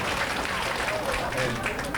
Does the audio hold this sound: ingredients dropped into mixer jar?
no